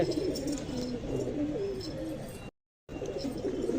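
Pigeons coo softly in low, throaty calls amid a busy outdoor bed of chirps during a pigeon-flying contest, with a brief silent gap partway through.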